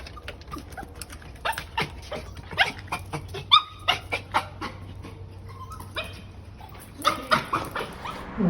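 Romeo, a newly rescued small dog, barks sharply in a rapid run of close, loud yaps and whimpers, reacting to another dog, with brief pauses between bursts.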